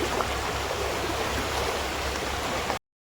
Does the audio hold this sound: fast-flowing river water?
yes